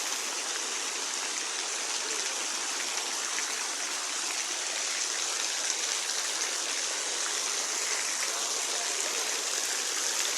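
Heavy rain pours down in an unbroken, even roar of hiss, heard close and constant for the whole stretch without any voices.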